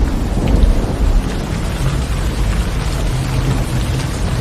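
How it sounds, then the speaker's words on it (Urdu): A forest thunderstorm: heavy, steady rain pours throughout while deep thunder rumbles loudly underneath, swelling early on. No voices. "ایک دن جنگل میں زبردست طوفان آیا۔"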